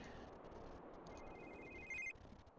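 A phone rings in a quiet indoor spot on an empty mesa, a brief electronic ring tone over steady low background noise, alone with no talking.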